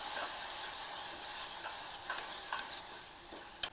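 Chopped green chillies, turmeric and salt sauté in oil with a ground spice paste, a soft continuous sizzle under repeated light stirring scrapes and a sharp clack near the end.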